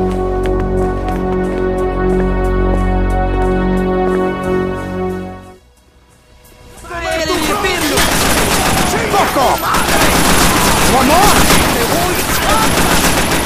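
Gunfire in Scarface: The World Is Yours on PS2 during a shootout. After a short lull come dense, rapid bursts of automatic fire with shouting voices mixed in, loud and chaotic, following a music-like opening passage.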